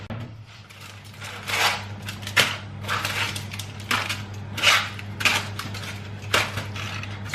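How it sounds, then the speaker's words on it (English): Foil-wrapped sweet potatoes are set down one by one on a metal baking sheet, giving a series of crinkly foil crunches and light clanks spaced a second or so apart over a steady low hum. "I'm going to rest these sweet potato that's already wrapped on a baking sheet"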